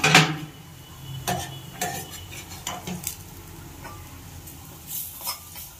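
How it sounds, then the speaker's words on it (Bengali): Shrimp-claw fritters fry gently in oil in a pan, a soft steady sizzle broken by repeated clinks and scrapes of a utensil against the pan. "বড়া ভাজাগুলো দেখি কেমন হলো।"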